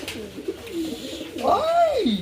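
Pure white Kalanka pigeons coo nearby in a single rising-and-falling call after a stretch of softer murmuring and background noise.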